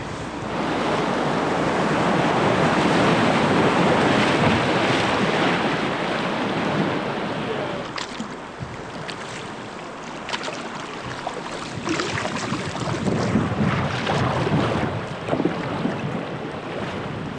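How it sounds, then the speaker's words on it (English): Rushing whitewater of a river rapid in remote wilderness north of Lake Superior, a loud steady broadband roar, close and continuous, easing slightly midway with some wind buffeting on the microphone and no talking. "we're nearing an intense rapid where we're probably going to camp tonight"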